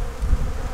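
Honey bees at the hive give off a low, close buzzing hum, brief and steady with slight swells in loudness.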